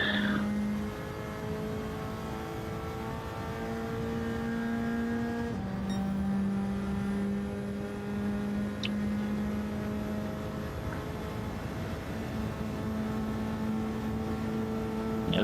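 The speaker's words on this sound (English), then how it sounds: "I just feel like the Supra just has no good sound about it" A Toyota Supra engine in the racing game Gran Turismo 7, a steady sustained drone held at a fairly constant pitch with a brief shift partway through, continuous and alone without talk.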